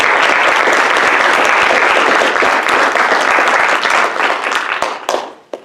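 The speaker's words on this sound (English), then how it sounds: "We could give our lovely panelists a round of applause." An audience at an art and funding panel applauds the panelists with loud, dense, sustained clapping close by, tapering off into a few scattered final claps near the end.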